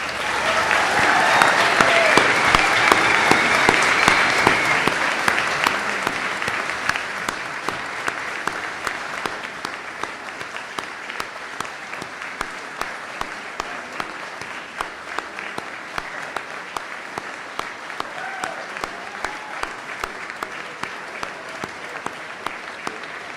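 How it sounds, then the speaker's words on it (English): Audience applause for graduates at a conferring ceremony in an indoor hall, a loud wash of clapping that swells over the first few seconds, then settles into a thinner, sustained patter with scattered individual claps. "stand for a well-deserved round of applause"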